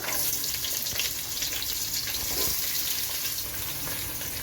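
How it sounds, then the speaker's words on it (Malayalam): Two chopped onions added to hot oil with spices for Arabian chicken majboos, sizzling in a constant loud hiss with faint scraping underneath, steady throughout and with no voices. "ഇനി നമ്മൾ അത്യാവശ്യം വലിപ്പമുള്ള 2 സവോള അരിഞ്ഞതാണ് ഇതിലേക്ക് ചേർത്ത് കൊടുക്കുന്നത്."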